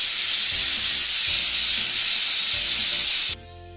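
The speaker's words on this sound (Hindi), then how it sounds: "अब हम कुकर का हवा निकालेंगे।" A pressure cooker holding chickpea curry, taken off a switched-off gas stove, vents steam in a loud, continuous close hiss that stops abruptly near the end, leaving a quieter tail.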